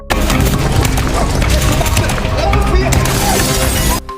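Gunfire in an action film as an old sniper shoots guards: dense, loud bursts of shots and impacts packed across about four seconds with a busy soundtrack mixed underneath, cutting off abruptly at the end.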